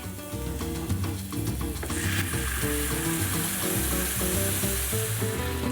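Chopped tomato hits leek already frying in a pan, giving a steady, close sizzle that swells after the first couple of seconds, with low tonal sounds running underneath.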